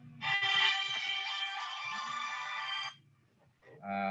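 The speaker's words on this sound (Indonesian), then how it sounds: "Sebentar Bapak, ada telepon dulu." A phone ringtone sounds loudly for almost three seconds, breaks off, then starts again, cutting into an online Zoom class on Cisco Packet Tracer router networking.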